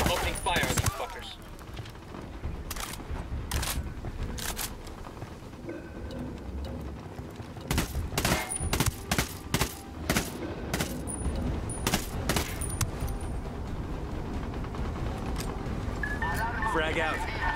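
Gunfire in the video game Ghost Recon Wildlands, dense bursts of rifle and machine-gun shots over a constant rumble, loud and continuous, with voices speaking over the fire.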